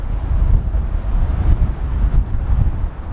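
Strong gale-force wind buffets the microphone on a golf course, a loud, continuous low rumble with gusty surges and no voice heard.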